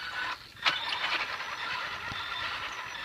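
An RC vehicle fitted with a Castle SV3 upgrade runs with a steady, whirring mechanical motor and gear noise, fairly faint and close, with a brief sharp rattle early on.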